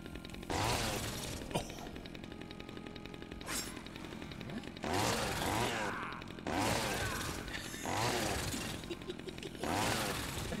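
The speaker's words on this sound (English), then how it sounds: "Give me the chainsaw." A chainsaw revs in Dead Rising 2 in several loud, grinding bursts separated by short lulls, over a steady background of game noise and occasional voices.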